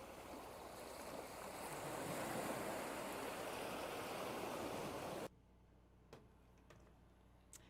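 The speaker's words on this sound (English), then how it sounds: "you can hear waves" Ocean surf rolls in as a loud, steady roar of breaking waves and wind for about five seconds, then cuts out abruptly to near silence with a few faint clicks.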